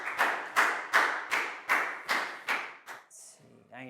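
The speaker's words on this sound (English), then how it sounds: "So a big round of applause for Proud" A classroom gives a pupil a round of applause: about eight loud, evenly spaced claps from a small group, then a brief clatter and a short voice at the end.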